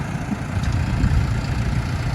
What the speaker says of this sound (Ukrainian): Зараз трактор приїде.